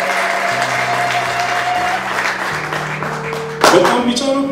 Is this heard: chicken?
no